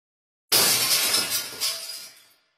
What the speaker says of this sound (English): I'm gonna break the windows like my dad told me to.